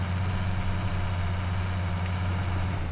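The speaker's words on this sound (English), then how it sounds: "The tractor is slipping and sliding." A tractor engine in a farming video game runs steadily through snow, a continuous low rumbling drone with a throbbing idle-like hum, close and even throughout with no voices.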